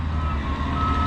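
An E60 excavator's reversing beeper sounds as one steady, continuous tone over low machinery rumble at a construction site.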